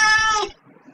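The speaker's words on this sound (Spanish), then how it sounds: "lo único que me alegro es que tus gatos no escuchen a ese gato" A cat meowing in an RPG Maker horror game: a single loud, drawn-out harmonic meow lasting about half a second, then dropping to faint background noise.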